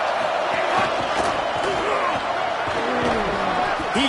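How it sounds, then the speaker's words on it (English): An Ohio State Buckeyes football stadium crowd roars on third down, a loud sustained wall of cheering and whooping from a huge audience, with a commentator's voice running over it. "The Buckeye crowd alive on third down."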